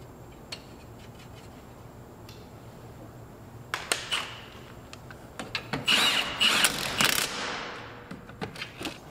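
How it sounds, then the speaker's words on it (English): A ratchet tightens a castle nut onto a tie rod on a JDM Subaru Forester, quiet at first, then bursts of close, scratchy clicking and metallic rubbing build up near the end. "we need to put this castle nut back on"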